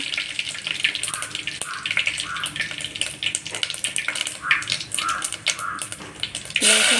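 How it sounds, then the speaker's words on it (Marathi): Cumin seeds and curry leaves crackle and sizzle in hot oil in a pan, a steady bright hiss with scattered pops, with a short voice heard faintly under it. "तेल गरम झालेला आहे त्यानंतर त्याच्यामध्ये आपण जिरा ॲड करूया"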